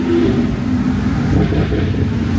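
A Lamborghini Aventador SV engine revs loudly and close by, a continuous deep roar that rises and holds without a break.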